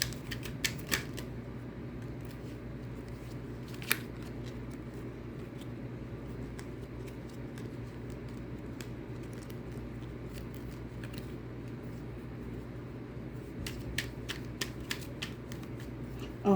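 Soft papery riffling and scattered sharp clicks of cards being shuffled, fairly quiet against a low background hum.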